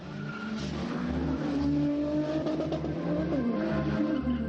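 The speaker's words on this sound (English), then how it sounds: "the souped-up cars are put through their paces in an orgy of donuts, timed runs, and burnouts." Modified street cars at an underground car meet, performing donuts and burnouts: engines roar and rev steadily up and down at close range, with squealing, skidding tires mixed into the din.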